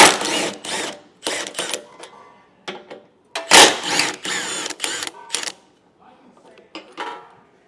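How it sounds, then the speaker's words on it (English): Metal nuts are loosened one after another with a ratcheting tool on the bumper of a 2021 Buick Enclave, producing bursts of sharp clicking and rattling separated by short pauses. "So I'll remove these top nuts first. And they're 15mm."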